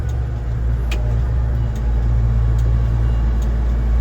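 A vehicle engine, geared right down, drones steadily while descending a long slope: a loud, close, low rumble that stays even throughout with no talking.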